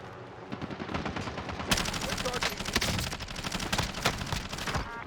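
Sustained automatic gunfire in Call of Duty Warzone Rebirth, rapid close bursts hammering continuously for several seconds, louder after a brief quieter lead-in of distant shots.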